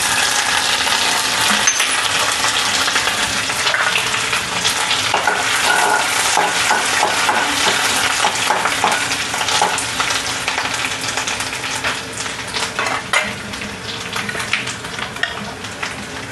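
A coarsely crushed paste of curry leaves, green chilli and cumin sizzles and crackles steadily in hot oil in a pan, a dense, continuous frying hiss that stays loud throughout with a few small clinks, and no talk.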